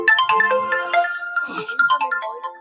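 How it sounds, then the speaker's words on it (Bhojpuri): A mobile phone rings loudly and close with a bright melodic ringtone for an incoming voice call, repeating quick tuneful notes throughout. "Incoming voice call"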